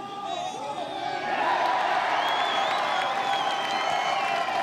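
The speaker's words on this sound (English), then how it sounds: "That'll get the crowd excited there in San Antonio." A golf gallery in San Antonio at a Valero tournament breaks into a swelling roar of cheers, whoops and applause, sustained and fairly close, with crowd babble mixed in.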